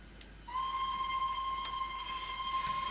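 A guard's whistle sounds on the K1 train in a railway simulator, a single sustained shrill tone that starts abruptly and holds steadily over a low background hiss.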